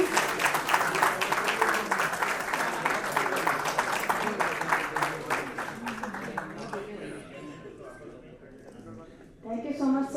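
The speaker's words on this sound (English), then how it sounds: "Can we have a big round of applause, please?" An event audience at a conference claps in a dense, sustained burst that gradually thins and fades toward the end, and a voice speaks briefly as it dies away.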